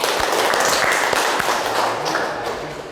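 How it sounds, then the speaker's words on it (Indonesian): Classroom of students applauding together at the close of a teaching-practice session in forestry education, a dense, steady wash of many hands clapping close by that slowly fades toward the end. "beri tepuk tangan dulu buat kita semua"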